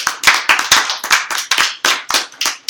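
Close, distinct hand claps ring out in a quick, slightly uneven rhythm, about a dozen sharp strikes, as an audience applauds the center staff.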